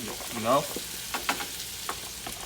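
Green onions fry in oil for kimchi fried rice, giving a steady close sizzle broken by a few sharp stirring scrapes and a brief vocal sound.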